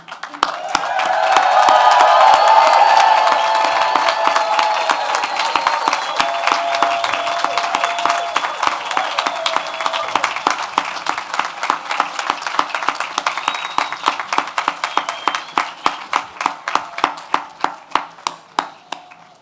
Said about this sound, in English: ask all the graduates to please rise so we can give you an unbridled outside voice cheer